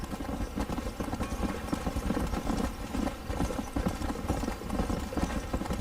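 Steady clip-clop of a horse's hooves in Red Dead Redemption, a continuous rhythmic trotting beat with no gaps, mixed with dense background game sound.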